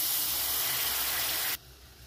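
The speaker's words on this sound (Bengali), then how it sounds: "কড়াটা গরম হয়ে গেছে। এর মধ্যে এবার আমি গুড়টা দিয়ে দেবো।" Date-palm jaggery hits a hot wok with a loud, broad hissing sizzle that runs steadily for about a second and a half, then drops off abruptly to a quiet background.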